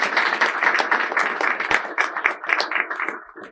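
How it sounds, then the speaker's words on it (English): Applause from a conference audience at a panel on nuclear power, AI and critical minerals, a short dense ripple of clapping that tapers off toward the end. "I think he deserves another applaud."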